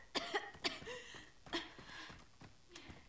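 Several short, sharp coughs in quick bursts, fairly quiet and close, from a player during an Italian Resident Evil 4 gameplay session on Xbox Series X, with breathy pauses between.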